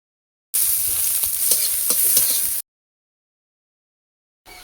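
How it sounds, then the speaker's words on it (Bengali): Garlic and onion sizzle and spit in hot oil in a wok with a few stirring clinks, loud and close for about two seconds before cutting off. "রসুন পেঁয়াজটা ভাজিয়ে দিয়ে মাছের উপর দাও"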